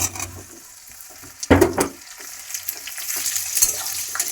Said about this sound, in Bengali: আমি গুঁড়টা তো একদম ধুয়ে রেখেছিলাম শুকনো করে এবার আমি তেলের মধ্যে দিয়ে দিচ্ছি